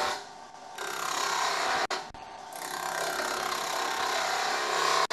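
Wood lathe turning solid wood held in a wobble chuck, a continuous rasping, scraping cut with a bright hiss, briefly interrupted by a couple of short gaps before the tool bites again.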